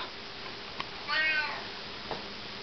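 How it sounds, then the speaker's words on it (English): A Siamese cat, a large heavy one, gives a single drawn-out meow at close range, with a couple of faint clicks before and after in an otherwise quiet room. "the bipolar Siamese cat that weighs like 20 pounds"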